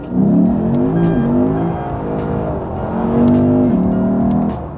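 A 2008 Lexus IS F V8 revs up hard in first gear, its loud droning note climbing and dropping briefly between gear pulls, close and continuous throughout.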